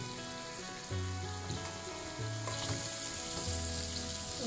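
Capsicum and tomato fry in a pan with onion and baby corn for pasta in white sauce, giving a steady, close sizzle with occasional stirring scrapes and no talk.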